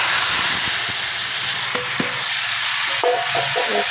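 Boiled leafy greens hitting hot, deeply browned tempering in a pan give a steady loud sizzle with hissing steam, broken by a few soft clunks of stirring, with no voices.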